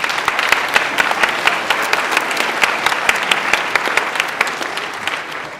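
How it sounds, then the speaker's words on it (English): Sustained applause from an indoor audience at a 2013 student recognition ceremony, steady dense clapping throughout with no talking over it. "Mr. Michael Hicks, let's give him a round of applause."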